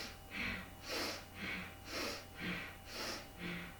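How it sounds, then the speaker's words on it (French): Forceful rhythmic yoga breathing through the nose in a Kundalini yoga class, about seven sharp alternating inhales and exhales at an even quick pace, close and clear with no talking. "Voilà, vous entendez vraiment la respiration"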